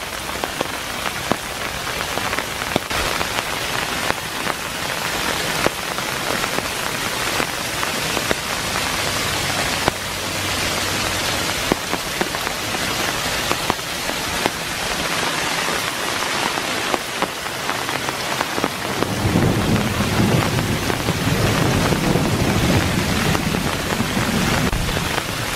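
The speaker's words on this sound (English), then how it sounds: "I love this place when it rains like this." Heavy rain patters steadily on surfaces in Iroquois Park, a dense continuous hiss that swells louder near the end, with no thunder distinct.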